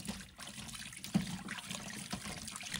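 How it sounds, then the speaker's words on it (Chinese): Pig trotters are rinsed under running tap water to wash out blood, a faint, continuous trickle and splash with small irregular surges, close and without talk. "用流动水把里面的血水清洗掉"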